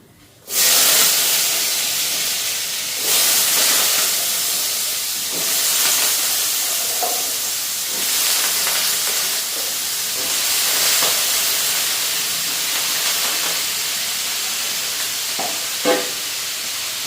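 Boiled Maggi noodles hit a hot pan with onion and burst into a loud, close hiss that holds steady, with small swells and brief crackles, and no talking.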